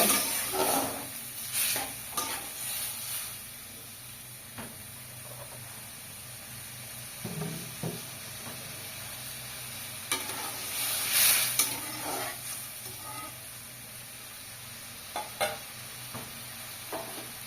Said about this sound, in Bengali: দেখুন এবার এই যে ঝোলটা ফুটে উঠছে